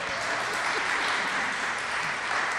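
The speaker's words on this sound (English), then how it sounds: "But I think that applause was unnecessary" A studio audience claps loudly and steadily, a dense, even wash of hands with no pauses and no voices over it, at a radio comedy show with ventriloquist Edgar Bergen and Charlie McCarthy.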